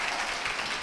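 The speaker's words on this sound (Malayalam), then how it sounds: "വരൂ, കൈയടി കൊടുത്തേ." A student is greeted by a crowd's applause at a college event with playback singers at RLV College Tripunithura, a steady, dense burst of clapping that fills the moment.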